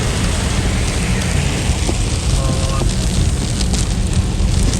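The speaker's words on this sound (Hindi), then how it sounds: "बारिश अंदर आ रही है।" Steady, dense hiss of heavy rain pours continuously without a break, loud and close, with faint scattered knocks beneath it.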